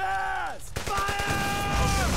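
Gunfire in the WWII shooter Brothers in Arms: Hell's Highway: a short volley of sharp shots erupts after a moment of music and voices, with ongoing noisy combat ambience.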